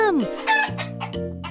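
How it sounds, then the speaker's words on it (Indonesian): A farm chicken calls out loud and close in a single drawn-out clucking cry with a rising-and-falling tone, heard alone. "Ayam bahasa Inggrisnya chicken."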